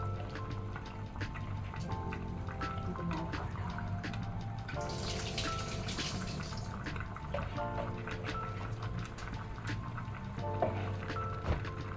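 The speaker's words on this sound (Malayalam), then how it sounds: "പിന്നെ കുറച്ച് ഒരു 1/4 കപ്പ് വെള്ളം ഞാൻ ഒഴിക്കുള്ളൂ." Water is poured into a pressure cooker for Kashmiri yakhni pulav, a splashing pour that swells briefly midway through a long stretch of steady kitchen noise and tonal background sound.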